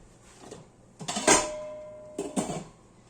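A few soft clinks and scrapes of metal cookware as a dough pastry is set into a hot frying pan, two short bursts of contact close by.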